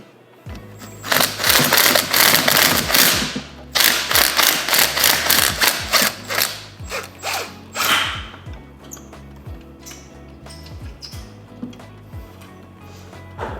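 Socket wrench with extension, universal joint and deep-well socket removing rear bolts on a Honda Civic Si downpipe: rapid bursts of sharp ratcheting clicks, loud and close, in several runs separated by short pauses, slowing near the end.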